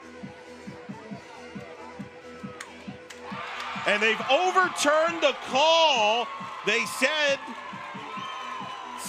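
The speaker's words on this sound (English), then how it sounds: "Crowd's reaction." A college softball stadium crowd, Texas against UCF, rises into cheering and whoops after an overturned call at a base, swelling loudly over a commentator's voice and music-like tones before easing off.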